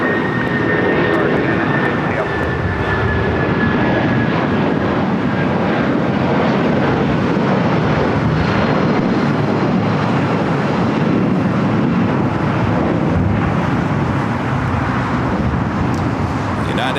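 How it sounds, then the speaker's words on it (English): A United Boeing 757 airliner takes off at LAX, and its jet engines produce a loud, sustained broadband roar that fills the whole stretch without letup. "United 757 at 200 taking off."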